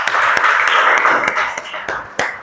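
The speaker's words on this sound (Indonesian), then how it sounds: "Tepuk tangan dulu untuk kalian semuanya" A group claps in applause at a church or campus gathering, with scattered sharp claps over a dense wash that fades toward the end, and faint voices underneath.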